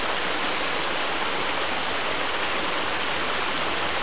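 The Arnauta river flows through the centre of Boljevac, and its water rushes in a dense, continuous broadband hiss. The sound is close and steady with no voices.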